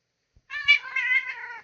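A pet cat gives one drawn-out, wavering meow lasting over a second, close and fairly loud, after a couple of faint thumps, with no voices.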